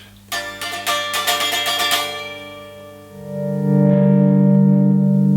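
A bright, biting Fender Noventa electric guitar on the bridge pickup through an amp: a quick strummed run of chords, then a sustained, slightly distorted chord ringing out with reverb and no voices.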